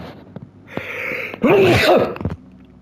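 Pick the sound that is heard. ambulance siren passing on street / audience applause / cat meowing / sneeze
sneeze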